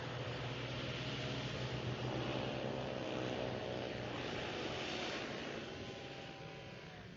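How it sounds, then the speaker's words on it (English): Racing hovercraft engines, including a four-stroke craft with a deeper tone, drone steadily at a hovercraft club meeting, a continuous roaring hum that slowly fades toward the end with no talking. "running a 4-stroke in that craft. You'll hear the deeper tone to the engine."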